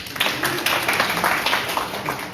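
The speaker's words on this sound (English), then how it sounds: "Can we all clap hands for her?" Audience at a teacher training session clapping for a speaker, a short burst of dense, scattered applause from several people, fairly close and steady for about two seconds.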